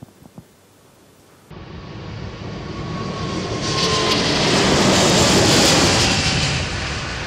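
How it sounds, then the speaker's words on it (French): An aircraft rolling at high speed along a runway, a broad roaring engine and rushing noise that swells loud and steady after a faint quieter opening, with no talk. "Quand les aéronefs roulent à grande vitesse, au décollage ou à l'atterrissage"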